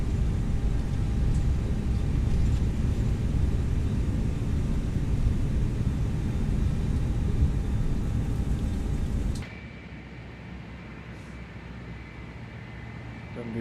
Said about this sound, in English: Beautiful aircraft taxiing.